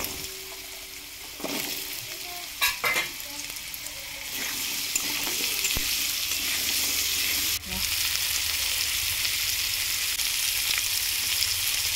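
Potatoes frying in a pan of oil, giving a steady, fairly loud sizzle that runs throughout, with a few short clatters and bumps near the start and a brief knock partway through.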